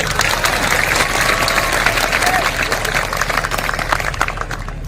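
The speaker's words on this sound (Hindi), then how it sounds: "तालियां बजाओ मोदी जी" A large crowd at a political rally in Chandrapur claps continuously in dense, sustained applause for the full stretch, loud and steady with a faint murmur of voices beneath it.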